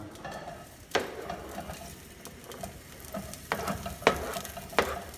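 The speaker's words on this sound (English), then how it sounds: "We're going to go ahead and toss our onions in there." Onions tossed into a pan of melted butter sizzle softly, with a few sharp clinks and scrapes of stirring at irregular intervals over a quiet frying hiss.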